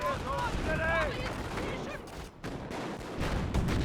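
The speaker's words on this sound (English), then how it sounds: "Grenadiers firing away." Rifle fire from German grenadiers in the World War II strategy game Company of Heroes, rapid overlapping shots and bursts amid battlefield noise, with shouted voices and whistling tones over the gunfire.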